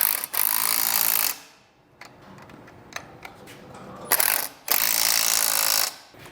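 A hand ratchet tightens the mounting bolts of a Dutton-Lainson hand winch, with two long, loud bursts of rapid clicking separated by quieter handling and clanks, close up.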